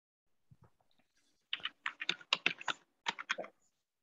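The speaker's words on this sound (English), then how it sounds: "Somebody is typing" Someone typing on a computer keyboard during an online lecture, a quick run of crisp key clicks in short bursts after a couple of isolated taps, fairly faint with no talk over it.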